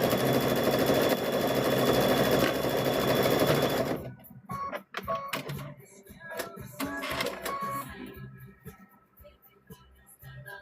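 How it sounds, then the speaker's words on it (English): A sewing machine stitches fabric for a thread catcher, running loud and steady for about four seconds, then stopping and giving way to light clicks, rustling fabric and a few brief bursts of handling. "That way we can sew it with the sewing machine"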